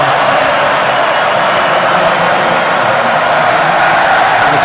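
Football crowd at a Colombia vs Greece World Cup match in celebratory mood, a loud, steady wash of distant cheering and roar with no clear breaks, filling the stadium throughout.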